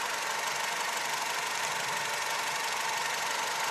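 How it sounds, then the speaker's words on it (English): A Honda Civic engine idles steadily, a continuous hissy mechanical hum with a faint rhythmic knock, no voices. "My car's been running for like a half an hour."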